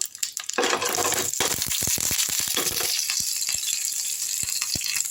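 Mustard seeds spluttering in hot oil for tempering black urad dal chutney, a dense steady sizzle with rapid sharp pops crackling throughout, close and loud.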